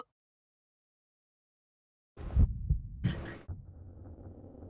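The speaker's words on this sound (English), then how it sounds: "I could hear my heart beat loudly." A heartbeat sound effect from the video game Chaos;Child comes in after two seconds of silence as a loud, deep throbbing pulse, two heavy beats followed by a low hum, no speech.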